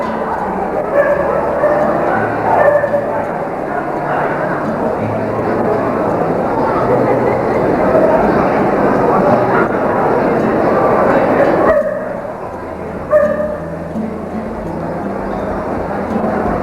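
Several dogs bark, yip and whimper at a large dog show in Brisbane, with repeated barks rising above a busy crowd murmur and people talking nearby.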